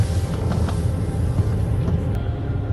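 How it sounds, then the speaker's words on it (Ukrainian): A car engine warming up, a steady low idling rumble held at an even level throughout, close by and without talk. "Прогріваю машину."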